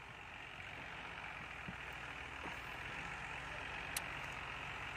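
New Holland TM120 tractor ploughing a field with a disc plough, a steady distant engine drone heard from afar, continuous and even with no talk.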